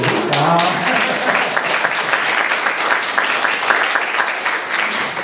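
Church congregation at a New York Methodist revival service applauding steadily throughout, a dense continuous wash of many hands clapping at moderate loudness with faint voices underneath.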